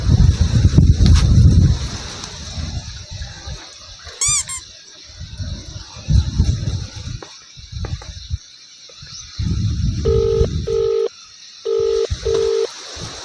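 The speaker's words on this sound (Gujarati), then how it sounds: "ઓલા મનસુખ ભાઈબંધને ફોન કરવા દે" A phone is dialed for a call, with a rising string of short key tones and later a few longer, evenly spaced beeps, set among rustling and handling noise.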